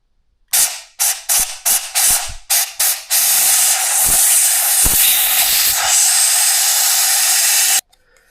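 An aerosol lubricant sprays onto a squealing blower motor, first in six short loud bursts and then one long steady hiss, with a few faint clicks between.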